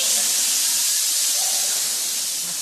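A pantomime audience hisses together in one loud, sustained, breathy hiss that fills the theatre for several seconds without a break.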